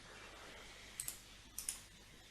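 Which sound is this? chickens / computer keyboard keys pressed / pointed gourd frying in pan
computer keyboard keys pressed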